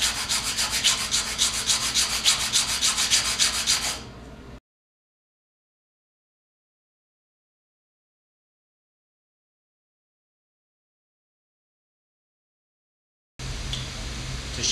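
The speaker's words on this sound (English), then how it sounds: "So I'm going to use the 80 sandpaper and round it." Hand sanding with 80-grit sandpaper on a small cut part gives a steady, close rubbing rasp for a few seconds, then stops, and a similar scratching returns briefly at the end.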